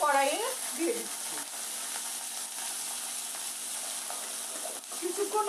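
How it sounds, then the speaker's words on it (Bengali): Dheki fern greens are dropped into a wok of hot oil with fried fenugreek seeds, setting off a steady, bright sizzle up close, with a few scraping stirs at the start and near the end. "এখন আমি ঢেঁকি শাকগুলিকে কড়াইয়ে দিয়ে দিচ্ছি।"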